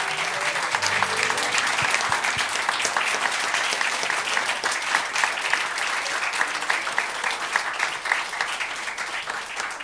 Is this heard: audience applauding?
yes